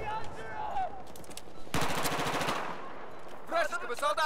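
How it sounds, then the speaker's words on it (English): Automatic gunfire in the video game Battlefield 4 rattles out in a loud, rapid burst of just under a second, with game sounds and a voice around it. "I shot a dude's claymore and killed him"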